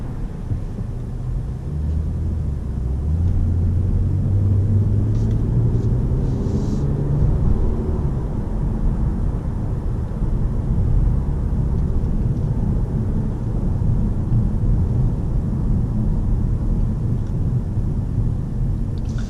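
2018-2020 Toyota Camry V6 cruising on the road, a steady loud low rumble of engine and tyre noise filling the cabin throughout, with no talking.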